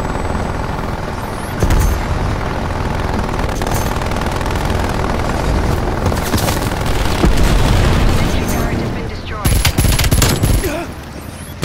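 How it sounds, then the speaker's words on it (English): A flashbang grenade goes off amid heavy gunfire in the Call of Duty: Black Ops Cold War video game, with dense continuous shooting and a loud booming burst near the end. "Throwing flashbang."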